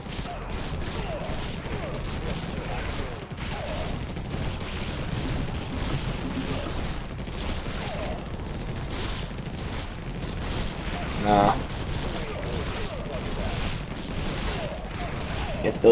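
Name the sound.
gunfire in the video game Infested Planet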